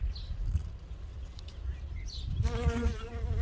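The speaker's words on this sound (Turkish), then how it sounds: "işte arı geldi alacak poleninden" A bee collecting pollen from flowers buzzes steadily close by, growing louder and more tonal toward the end as it hovers nearby, with outdoor background noise.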